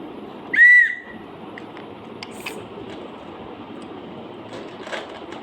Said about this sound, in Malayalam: ഈ വിസിൽ